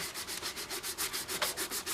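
Hand sanding a cracked doll with quick, even back-and-forth strokes, a rhythmic scratchy rubbing repeating about seven times a second, close up and fairly loud.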